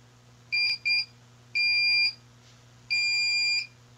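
A Rank 13G signal generator circuit gives a steady electronic tone in four separate bursts: two short beeps close together, then two longer held tones, each clear and alone over a low background hum.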